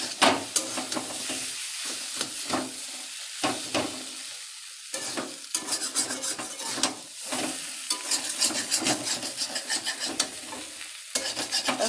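Potato and bori curry with turmeric and salt sautés in a pan, with a loud continuous sizzle and frequent scraping stirs of a spatula throughout, no voices.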